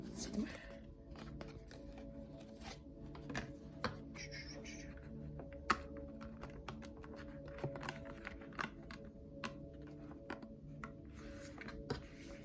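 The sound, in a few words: shuffling cards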